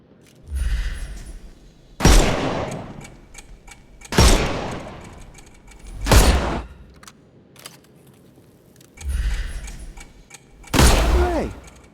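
Heavy gunshots from the video game Sherlock Holmes Chapter One fire one at a time about every two seconds, six loud booming blasts each trailing into a short rumble, with brief quiet gaps between them.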